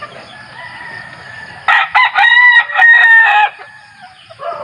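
A mestizo fighting rooster crows loudly nearby, one long strained call broken into several pulses, with quieter fowl sounds before and after.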